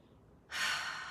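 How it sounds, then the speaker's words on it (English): A slow, deep inhalation during a guided relaxation session, a soft airy rush of breath that swells in partway through and holds steady, close and quiet with no talking. "Take a deep breath in throughout your body."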